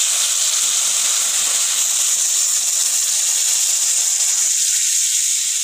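Water poured into a pan of fried potatoes in hot oil, erupting into a loud, steady steam hiss and sizzle that holds evenly throughout.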